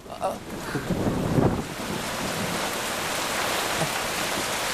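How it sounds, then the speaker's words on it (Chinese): Steady rain hisses with gusts of wind buffeting the microphone, louder at the start and then a constant wash of rainfall. "下雨了"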